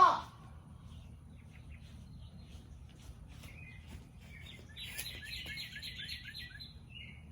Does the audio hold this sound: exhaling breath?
no